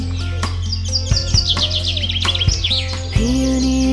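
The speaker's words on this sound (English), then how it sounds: "A yellow warbler sings, then it disappears again." A yellow warbler sings a quick run of bright, high chirping notes, close and clear over a steady low background hum, ending as a sustained tone rises beneath.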